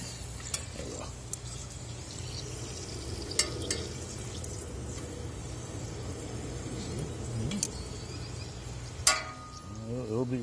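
Prawn chips fry in peanut oil outdoors, a soft continuous sizzle with occasional stirring clicks and insects chirping faintly in the background.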